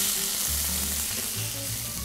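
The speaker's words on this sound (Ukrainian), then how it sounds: "Розігріваємо сковорідку та на оливковій олії обсмажуємо креветки." Shrimp sizzle and crackle steadily in hot olive oil in a pan, a continuous frying hiss with no talking.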